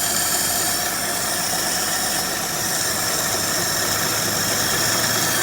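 A 1946 Chevrolet truck engine running steadily after a fuel hose replacement, a constant close rumble with a faint high squeal and vibration, no voices.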